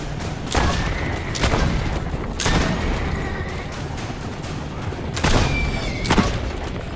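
Gunfire in Assassin's Creed Brotherhood, with a handful of loud, sharp booming shots spaced irregularly seconds apart, each trailing off into a ringing echo against low background game noise.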